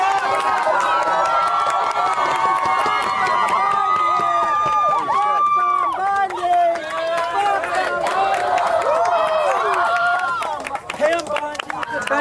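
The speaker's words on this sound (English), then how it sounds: "murder charges against Luigi Mangione, you have Antifa and far leftists cheering and jumping up and down for the charges being dropped." Crowd of protesters celebrating dropped charges, cheering, shouting and jumping, loud and continuous with babbling voices and chants close by.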